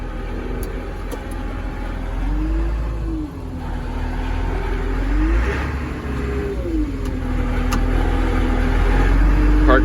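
A Cat IT28G loader's diesel engine revs steadily in gear with the bucket raised and parking brake set, a loud continuous drone rising and falling in pitch over about ten seconds, with faint background voices.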